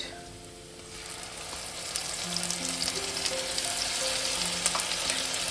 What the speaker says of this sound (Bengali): এবার আমি দিয়ে দেবো আদা রসুন বাটা 1 চামচ।